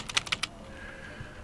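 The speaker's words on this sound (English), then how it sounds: "Tap the delete key" Keys on a computer keyboard tapped about five times in a quick run, close and crisp, followed by faint electronic hum.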